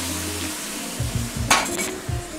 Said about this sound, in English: So this is going to be our sauce going in first